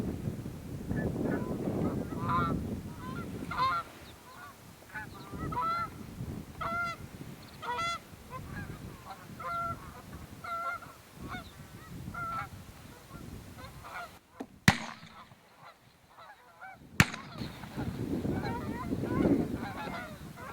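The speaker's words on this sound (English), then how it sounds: "The giant Canadian honker, which is the type of geese flying into our field this morning" Giant Canada geese flying in over a field in the morning, a chorus of repeated honks, some loud and near, others farther off, with wind noise and a few sharp bumps on the microphone.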